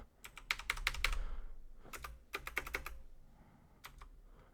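Bursts of typing on a computer keyboard during a Linux terminal session in Ubuntu running under Hyper-V, with quick clusters of key clicks, brief pauses between runs and a few sparse presses at the end, close and clear.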